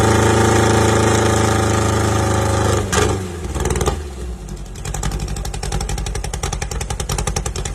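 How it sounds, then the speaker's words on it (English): A stripped-down 1965 Volkswagen Karmann Ghia dragster built for straight-line racing runs its engine, a loud close roar that dips and then settles into a rapid, pulsing idle. "1965 Volkswagen Karmann Ghia Dragster built for lightweight straight-line performance and track-focused racing use."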